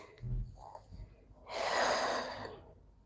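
A single long, soft exhale through the nose and mouth during a yoga half split, breathy and close, preceded by a few quieter breaths.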